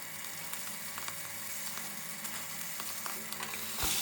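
Cubed watermelon rind sizzles in hot oil in a home kitchen pan, a steady soft frying hiss with occasional stirring scrapes and clicks, fairly faint and continuous.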